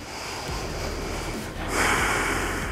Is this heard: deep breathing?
yes